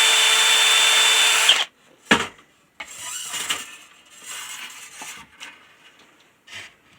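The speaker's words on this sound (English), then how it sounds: "I got my drill with my tape set for the correct depth marks" A power drill bores depth-marked holes in very soft wood for a curved tri-tail tuner build, a loud steady whine for about a second and a half followed by short scattered bursts of drilling and clatter.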